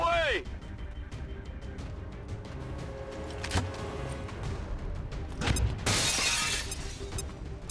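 An explosive charge goes off in XCOM 2, a loud shattering blast with breaking debris, set among other game sound effects while someone talks over the action.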